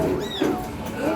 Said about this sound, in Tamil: இங்கே பாருங்க, அப்படி இது பூனை